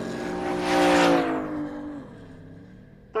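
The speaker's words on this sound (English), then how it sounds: "Yeah, spun the tires hard." A stick-shift 6th-gen Camaro launches at a drag strip at Pueblo Motorsports Park, its engine roaring with a harsh burst of tire spin that peaks, then fades as the car pulls away, with a sharp noise at the very end.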